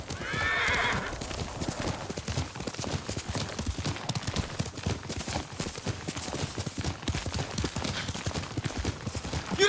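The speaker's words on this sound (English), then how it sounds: "Yuriko's horse." In Ghost of Tsushima, Yuriko's horse neighs loudly at the start and then gallops on with continuous, close hoofbeats in a fast, driving clip-clop rhythm.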